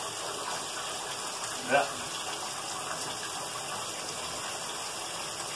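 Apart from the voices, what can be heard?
tap water running while washing hands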